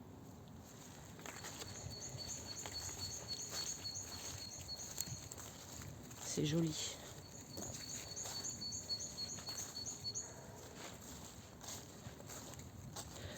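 Birds chirping and calling outdoors during a walk with a dog, faint bird calls scattered over soft footsteps and ambient rustle, with a brief spoken remark partway through.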